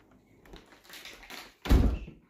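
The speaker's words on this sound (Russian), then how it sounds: "Давай дверь закрой." A door is shut in a home, with soft rustling and shuffling before a single heavy thud as it closes, fairly near.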